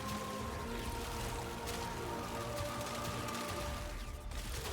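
Dense, steady weapon fire from the video game Warframe, a Kuva Sobek shotgun or Tenet Glaxion used with the Saryn frame, rattling continuously as a loud, noisy barrage with faint hiss over a constant game background.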